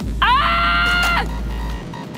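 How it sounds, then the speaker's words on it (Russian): A single loud, close scream from the game Cyberpunk 2077 rises sharply and holds for about a second before cutting off, over a low steady hum. "что за неадекватные вопли?"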